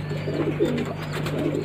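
Pigeons kept for flying, offered for sale, coo softly and repeatedly in a low, rounded rhythm over a steady background hum, with no voices present.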